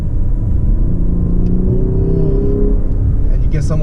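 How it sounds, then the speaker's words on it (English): A 2019 Lexus LS500 engine revs while the heavy sedan drives, a steady loud rumble with rising whir throughout and a voice talking over it. "What the hell, the engine? How can it sound like that?"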